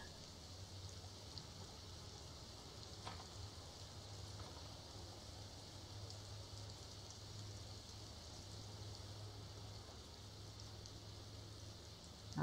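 Steady, soft rain hiss in the video game The Sims 4 fills the whole stretch, an even wash of patter with a low hum underneath and no voices.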